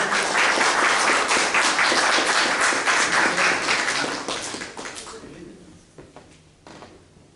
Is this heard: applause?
yes